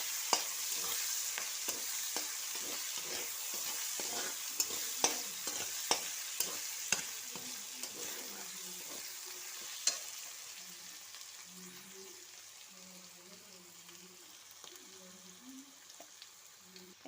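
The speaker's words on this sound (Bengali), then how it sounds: "দিয়ে এখন আমি এইগুলো সব ভালো করে ভেজে নেব।" Crushed garlic and other ingredients fry in a pan, a soft sizzle broken by a run of sharp scraping stirs that ease off into a quieter bubbling simmer toward the end.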